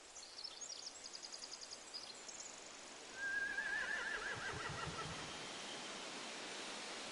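Horses whinny loudly in The Walking Dead video game, one long shrill neigh rising over a steady wash of ambient noise after a few seconds of faint chirping and rhythmic sounds.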